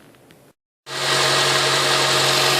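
After a brief silence, the 4-cylinder engine of a 2007 Honda Accord SE catches and settles into a steady, close idle with a constant hum following a fresh alternator install.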